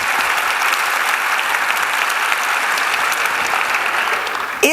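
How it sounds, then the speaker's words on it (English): Sustained audience applause at a CNCS town hall during the 2013 NCVS conference, a dense, steady wash of many clapping hands filling the room at even loudness throughout, with no talking. "Give yourselves a round of applause."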